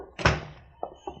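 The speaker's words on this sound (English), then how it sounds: "Shut the door." A door shut with one dull, solid thunk, followed by two softer knocks or taps as it settles, close and clear with no voices over it.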